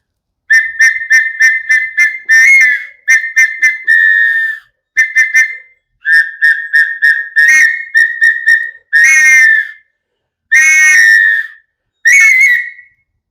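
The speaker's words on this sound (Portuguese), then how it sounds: "Flauta dupla." Whistle-like double flute, a folk wind piece blown to evoke birds and forest, sounds in close, loud bursts: quick repeated chirping trills alternating with longer warbling sustained notes, no voices.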